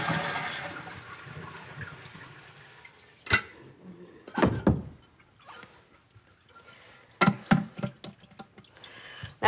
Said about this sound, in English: And then we're going to drain the tank.